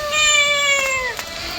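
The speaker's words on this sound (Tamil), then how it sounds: "இது பாருங்களே, பூனை மாதிரியே வாய்ஸ் எப்படி கேட்குது." A cat's meow from a video game's wish list animation, one drawn-out harmonic cry that slides downward before a brief chirp near the end, close and clear with no talking.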